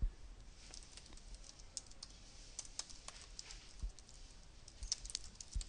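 Light typing on a computer keyboard, a quiet patter of scattered key clicks with a few sharper taps, close and alone without talk.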